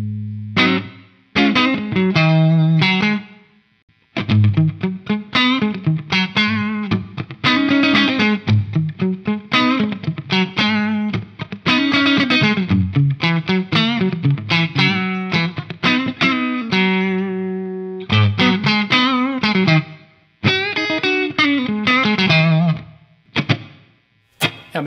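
An electric guitar plays a run of chords and single notes through the Large Hall reverb patch of an expensive studio reverb unit, each phrase trailing into a wide, spacious wash with brief pauses between.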